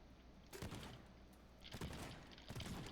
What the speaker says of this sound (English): Destroy fire with the shotgun